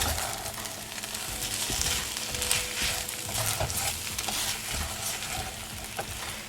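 Kung Pao stir fry sauce sizzles steadily in a hot frying pan, a continuous close crackle with a few brief scrapes as the food is stirred.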